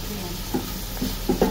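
Mutton pieces frying in a pot while being stirred, a low sizzle with a few soft scraping strokes bunching toward the end, close up and brief, no speech.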